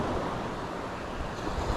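Ocean surf washes and breaks steadily along a beach where someone is surf fishing, a continuous broad rush of water with wind noise over it and no voices.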